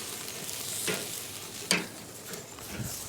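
Steaks sear on a grill with a soft steady sizzle, punctuated by two sharp bursts, one louder and closer, as meat hits or shifts on the hot grate.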